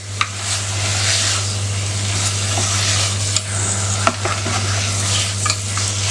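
Half a kilo of washed mutton pieces frying and being stirred in a pan for kurma, a steady loud sizzle with occasional scrapes of a spoon, no talking.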